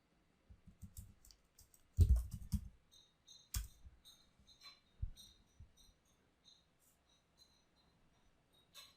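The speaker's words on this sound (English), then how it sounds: "let us say the user keys in this website." Computer keyboard keys are tapped to enter a website address, giving sparse irregular clicks with a few louder clustered strokes and quiet gaps between them.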